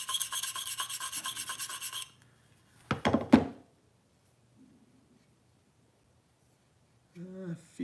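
A Cruwear steel knife blade rasps back and forth on a Venev sharpening stone in a rapid run of strokes, then a few separate scrapes follow after a pause, with a brief voice at the end.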